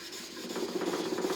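Quiet, continuous rubbing and rasping of sandpaper drawn steadily by hand over a steel knife blade, with no talking.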